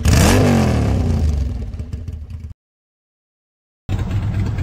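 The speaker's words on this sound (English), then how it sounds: "Motorcycle." Motorcycle engine revving up sharply at the start, then settling into a rough, clattering idle before cutting out, followed by a short return of engine rumble.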